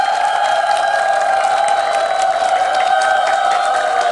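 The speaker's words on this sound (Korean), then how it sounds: "노래를 하니까 박수를 치시네요." Audience applause after a song at a Buddhist monk's lecture: a dense, steady wash of clapping from a crowd, fairly loud and continuous for the whole stretch, with a sustained tone running underneath.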